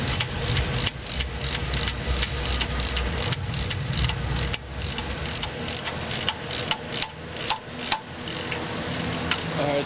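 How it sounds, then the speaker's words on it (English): A tool removes an Allen bolt from the timing belt pulley of a Toyota 5VZ-FE V6, giving a fast, continuous run of sharp mechanical ratcheting clicks broken by brief pauses. "They put a Allen bolt in here. Taking it off right now."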